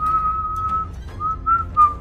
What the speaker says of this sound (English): Like I whistle like that.